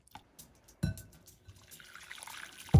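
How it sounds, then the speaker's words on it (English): Laksa noodles and soup splash and trickle as they are poured back into the bowl, with a soft thud partway through and another splash at the end. "we're going to put our noodles back into the soup base"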